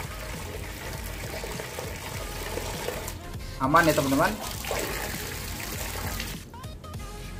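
Water trickles and spatters steadily from a leaking joint between a garden hose and a tap, running throughout with a brief louder gush; a person speaks briefly over it.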